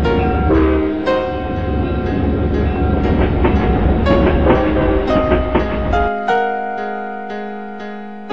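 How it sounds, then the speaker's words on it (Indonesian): A train leaving a station rumbles and clatters with ringing metallic tones; the low rumble suddenly drops away, leaving lingering tonal squeals. "Ketika kereta api meninggalkan stasiun, kereta bergerak terhadap stasiun."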